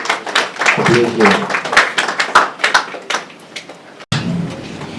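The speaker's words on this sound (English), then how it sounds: "Please, I'd like you to give another round of applause for yourselves for being here" An audience at a podium event breaks into scattered clapping, sharp claps popping beneath a speaking voice, then briefly cutting out before resuming at a lower level.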